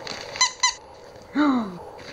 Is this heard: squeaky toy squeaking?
yes